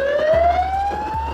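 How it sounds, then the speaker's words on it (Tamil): An ambulance siren on a street in Jaffna wails in a steady rising tone, loud and close, over a low engine rumble as the vehicle passes. "ஆம்புலன்ஸ் வருதோ வழி விடுவோம்"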